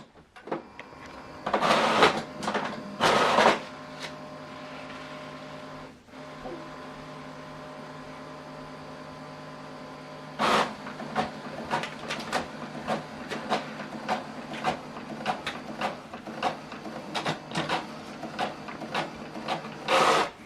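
An Epson wireless inkjet printer copies and prints a document, with rapid mechanical clicks and rattling bursts of paper feeding over a steady motor whir, close and alone.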